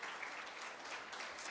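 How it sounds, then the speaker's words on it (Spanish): A church congregation claps together in steady, dense applause that fills the whole moment, fairly soft and even, with no voices over it. "Un aplauso, hermanos."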